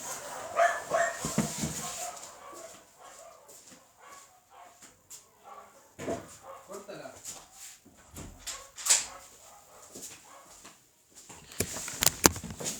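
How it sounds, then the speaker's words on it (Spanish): Several dogs barking intermittently in the background of an indoor room, muffled and moderately faint, with scattered barks and yips over several seconds alongside occasional other noises. "Así no se escucha tanto los perros."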